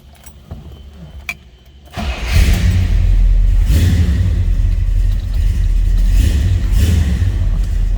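A 1970 Chevrolet Chevelle V8 cranks and fires after a couple of seconds of quiet cabin handling, then settles into a loud, deep, steady rumbling idle with slight swells in revs.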